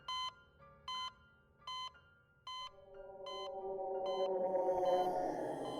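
Hospital machines beeping: six evenly spaced electronic tones, steady and clear, before a rising wash of swelling ambient sound takes over and buries the last beeps.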